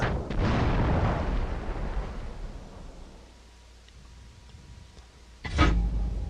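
A tank in World of Tanks fires an artillery shell: a heavy booming blast opens, rumbles and decays over a few seconds, then a second sharp loud report bursts near the end.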